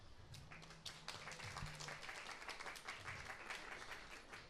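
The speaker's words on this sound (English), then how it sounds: "clap it up for yourselves." A comedy show audience applauds in a sustained, dense burst of clapping that carries from start to finish, with a brief low voice near the beginning.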